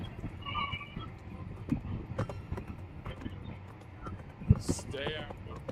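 In The Witcher 3, a horse gallops with rapid clip-clopping hoofbeats and lets out a whinnying neigh, close and fairly loud, while game voices speak over the action.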